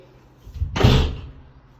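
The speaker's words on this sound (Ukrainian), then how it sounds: "двері прикрию." An apartment door swings and closes with a single whooshing thud, close and fairly loud, then fades to quiet room tone.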